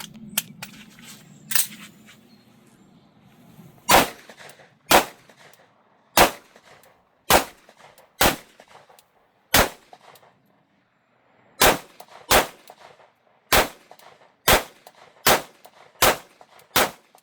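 Pistol shots fired at a shooting range, about fifteen sharp, loud single reports at a steady pace of roughly one per second, with a brief pause midway and a faint murmur before the first shot.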